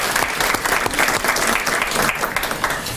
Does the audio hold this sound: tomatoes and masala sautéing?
no